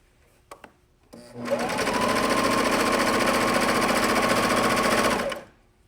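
A sewing machine runs in one steady burst of rapid stitching along a jersey seam sewn from the side, close and loud, after a few faint clicks and before winding down to quiet.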